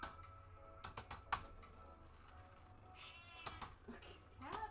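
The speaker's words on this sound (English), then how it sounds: "Cat?" A cat gives a faint, short meow or two amid quiet clicking like keyboard typing, all at low volume in an indoor setting.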